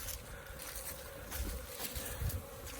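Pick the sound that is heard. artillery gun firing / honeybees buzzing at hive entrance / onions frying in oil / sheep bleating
honeybees buzzing at hive entrance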